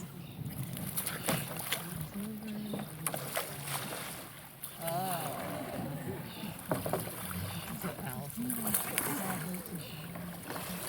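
A sea kayak is rolled over and over in water during a rolling demonstration, with repeated sloshing, splashing and dripping close by, while someone talks over the water sounds.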